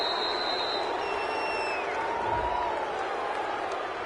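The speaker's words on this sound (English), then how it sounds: "this crowd does not like that call." Stadium crowd noise in a football video game fills the background with a steady, dense roar and scattered cheers as fans react to a penalty call, continuous and moderately loud throughout.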